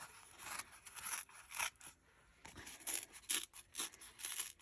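Pages of a dollar store book being ripped out by hand, a run of separate close paper tearing bursts with short pauses between them, heard alone with no talking.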